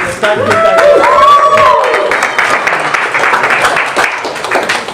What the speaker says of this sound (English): I usually wait about 60 seconds for the applause to die down